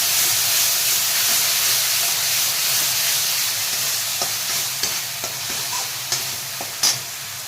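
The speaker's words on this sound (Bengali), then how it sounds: "টমেটো বাটাটা পুরো দিয়ে দিলাম, একটু নেড়ে নিই।" Tomato paste is stirred into a frying soybean curry, with a steady sizzle and hiss throughout and sparse spoon scrapes and clicks growing more distinct toward the end.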